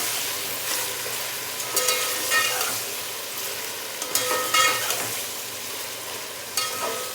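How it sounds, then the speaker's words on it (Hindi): Mutton frying with garlic ginger paste in a pot, a continuous crackling sizzle with intermittent scraping bursts of stirring, fairly close and moderately loud. "इसको मैं फ्राई कर लूँगी गोश्त के साथ।"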